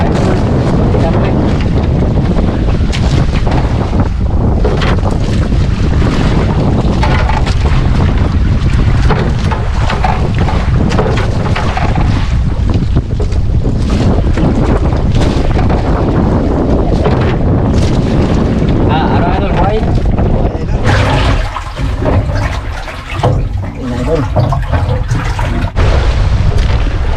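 Loud, roaring wind buffets the microphone over the rush and slap of waves against a fishing boat at sea as the wind strengthens and waves grow, steady and overwhelming throughout.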